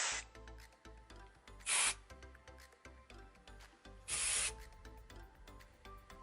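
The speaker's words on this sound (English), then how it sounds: "Then I'm going to start just taking sections of my hair and spraying." Living Proof dry shampoo sprays onto sections of hair in two loud, hissing aerosol bursts of about a second each, close by. Between and around the bursts come rustling and rubbing handling noises.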